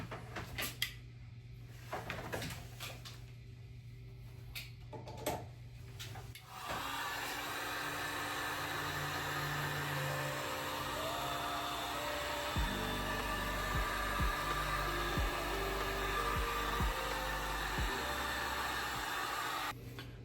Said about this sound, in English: So we're just gonna use heat gun.